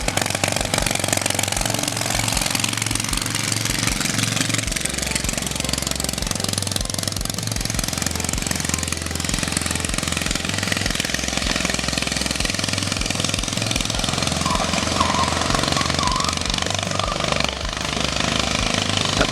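A homemade chopper engine with no exhaust and a performance intake with no carburetor runs loud and harsh for the whole stretch, a rapid hammering clatter that stays steady and close without any break.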